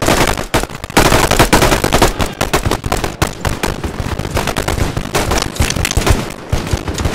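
Rifle gunfire in a video game plays as dense, loud, rapid bursts of shots that keep up almost continuously, with no talking.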